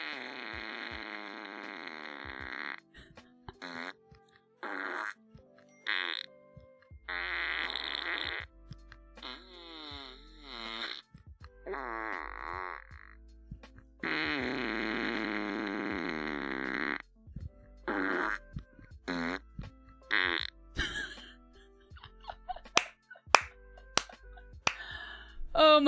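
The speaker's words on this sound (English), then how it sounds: "I can't believe it's a 1 hour fart stream now." Fart sounds play repeatedly during a livestream, a long run of drawn-out, buzzy bursts of varied length with short gaps between them, ending in sharper, scattered pops.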